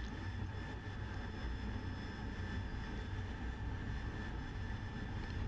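An AV-8B Harrier jet engine at full throttle in the DCS flight game roars steadily and loudly, a continuous dense broadband rumble with a high whine on top, unbroken by any voice.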